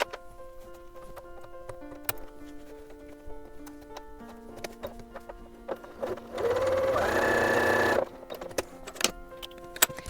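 A sewing machine with a Teflon presser foot runs a close, loud, even burst of stitching for about two seconds, set between quieter ticks and clicks of handling.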